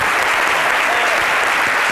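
Applause from a studio audience on a midday talk show rings out steadily and loudly, a dense wash of clapping with no voices standing out.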